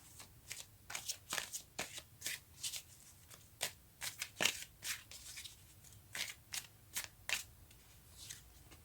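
Tarot cards are shuffled and drawn up close, a quiet run of crisp flicks and slaps coming in irregular bursts with short gaps between.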